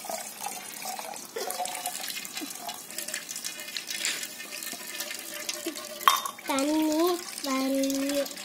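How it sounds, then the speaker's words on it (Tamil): Water is poured during a school science experiment, a continuous close trickling and splashing that runs throughout, with voice-like tones rising in over the last few seconds. "தண்ணீர் ஊத்த போகிறேன்."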